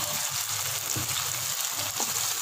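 Garlic frying in a pan while cooking dal chana fry gives a steady, close sizzle with soft crackles and an occasional light stir, continuous and without talk.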